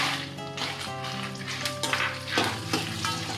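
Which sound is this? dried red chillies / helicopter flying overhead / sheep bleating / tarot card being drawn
dried red chillies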